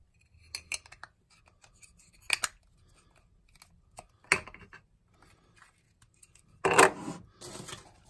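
A camera lens is packed for shipping: scattered crisp snips, rustles and short handling clatters come in separate bursts with quiet gaps, and a denser flurry of rustling sits near the end.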